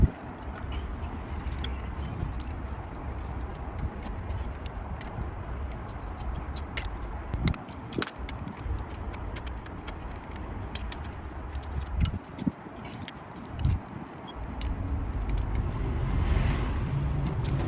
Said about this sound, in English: I'm going to get the torque wrench out and torque them down to spec.